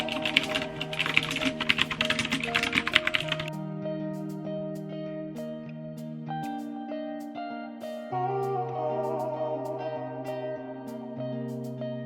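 Keyboard typing, brisk and irregular, clatters through the first few seconds during a writing session, then stops as sustained music carries on alone for the rest.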